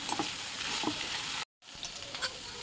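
Chicken biryani masala with mint, curry leaves and coriander sizzles and crackles steadily in a pan, faint but continuous, with a few soft stirring scrapes and a brief cut to silence partway through.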